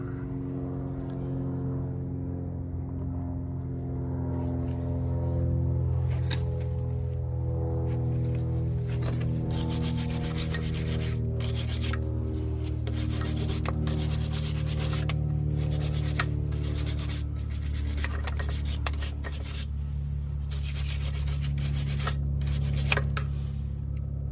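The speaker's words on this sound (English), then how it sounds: "Now you can see the bolts of this carrier roller, so we're gonna clean them off a little bit." Scraping and rubbing on the bolts of an excavator's carrier top roller during a field repair, a steady rasping scrub with repeated strokes over a low machine hum.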